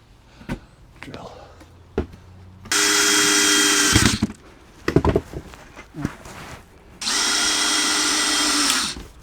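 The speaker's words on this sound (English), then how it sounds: "Drill." A power drill drives into the old, weathered wood of a raised-bed roof at an allotment in two loud, sustained bursts of several seconds each, with knocks and handling noises in between.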